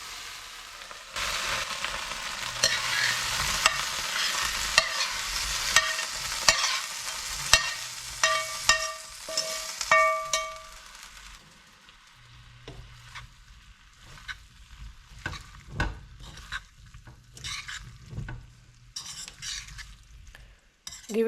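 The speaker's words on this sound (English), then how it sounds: "Adding some curry leaves. Now let's add the okra." Okra frying in a pan with curry leaves for a shrimp curry, a loud steady sizzle with a spoon scraping and stirring, dying down to intermittent clinks and soft frying later.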